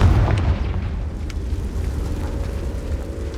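A Confringo fire spell blasts in the Hogwarts Legacy video game, a loud, deep booming explosion at the start that rumbles and fades out over the next few seconds.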